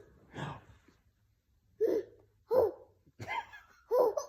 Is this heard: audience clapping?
no